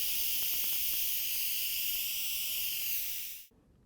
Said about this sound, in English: at this top portion right here, all the steam will get let out